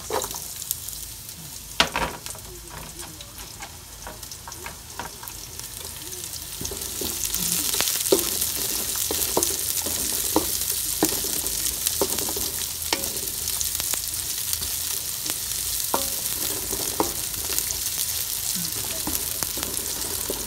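Onion sizzles in a cooking pot for traditional lugaw rice porridge. The hiss swells after a few quiet seconds into a steady frying crackle, with occasional scrapes and clicks of stirring.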